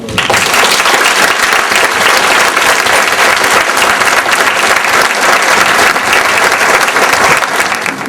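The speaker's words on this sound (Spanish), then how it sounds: "Y brindamos un aplauso." A loud, dense round of clapping fills a university architecture faculty lecture hall at a ceremony for a visiting architect, sustained evenly from start to finish with no voices.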